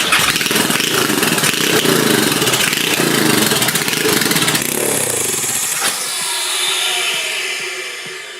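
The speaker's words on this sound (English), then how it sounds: "That was the sound of a turbo spooling down on a Barbie car!" A 150cc motor-converted Barbie car runs loud and close, its small engine buzzing steadily before a turbo spools down into a fading whine over the last couple of seconds.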